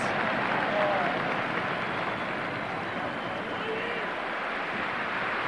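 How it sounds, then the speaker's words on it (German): A stadium crowd applauds during a 1992 DFB Cup football match between Hannover 96 and Borussia Mönchengladbach, a steady, dense wash of clapping and crowd noise that holds evenly from start to finish. "Stürmischer Applaus, das ist ja inzwischen zur guten Sitte geworden, glücklicherweise"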